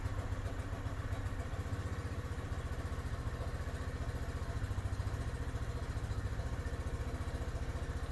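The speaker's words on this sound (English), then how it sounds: "just let it idle so all that oil could get circulated in there and fill the whole cavities that it needs to fill" A 2022 Lifan KPV 150 scooter engine idles after an oil change, giving a close, steady, rhythmic putter that stays even throughout with no talking.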